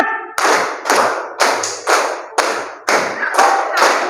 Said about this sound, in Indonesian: 2 kali tepuk 4.